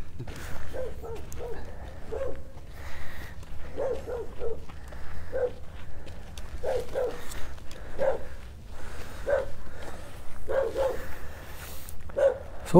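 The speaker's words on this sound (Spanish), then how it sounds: "Le hizo muy fuerte ese perro." A dog barks repeatedly in the distance at night in a cemetery, short sharp yelps spaced every second or so over a steady low background rumble, with no talking.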